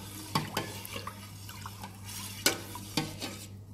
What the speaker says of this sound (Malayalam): ഇതൊന്ന് നല്ലോണം ഇങ്ങനെ മിക്സ് ചെയ്ത് കൊടുക്കാം വെള്ളം.